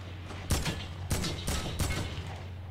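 Four sharp video game gunshot blasts ring out in quick, uneven succession, each with a short echoing tail over a low steady hum.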